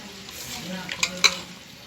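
Spices are mixed into Eid sacrifice meat by hand, giving soft, wet squelching close by with a couple of sharper clicks, all fairly quiet.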